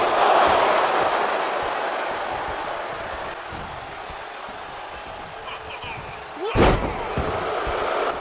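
A heavy wrestling slam in WWE 2K24 lands with a single booming thud near the end, over a steady roaring arena crowd and commentary voices throughout.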